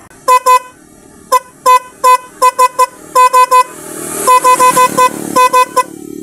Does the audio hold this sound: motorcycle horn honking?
yes